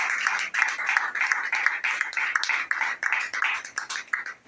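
A church congregation claps rhythmically together during a Spanish-language worship service, a steady, lively burst of many hands filling the room for several seconds with no speech over it.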